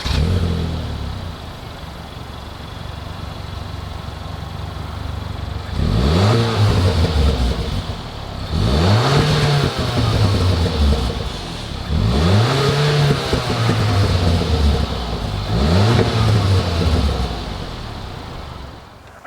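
A 2019 Hyundai Veloster Turbo R Spec engine revs hard four times in succession, each sharp rise in pitch falling back to idle, loud and close with no talk.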